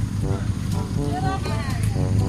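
A small motorboat engine drones steadily beneath people talking, with wind buffeting the microphone throughout.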